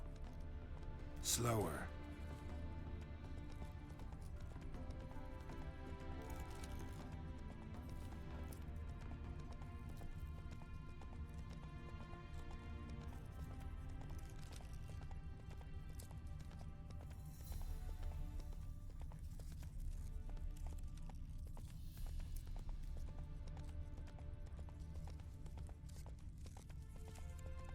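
Geralt's horse Roach gallops in The Witcher 3: Wild Hunt, a steady rumble of hoofbeats running continuously under a voice, with a brief whoosh near the start.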